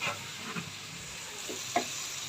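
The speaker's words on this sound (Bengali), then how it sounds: "এখন পেঁয়াজগুলিকে নরম হওয়া পর্যন্ত ভেজে নেবে।" Onions sizzle quietly in a pan, a soft steady hiss broken by a few stirring scrapes, with no talking.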